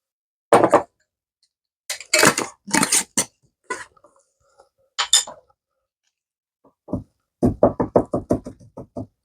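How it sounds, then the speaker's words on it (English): Chaste tree berries being crushed in a small mortar and pestle, heard as sharp, close knocks that come in short irregular bursts with pauses, ending in a quicker run of about ten rhythmic whacks. "I'm just gonna bust them up in my little baby mortar and pestle"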